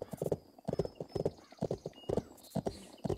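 Steady clip-clop of a horse's hooves in the Bibi & Tina: Auf dem Martinshof video game, a brisk regular rhythm of paired hoofbeats, close and continuous, with a faint whinny-like tone layered in.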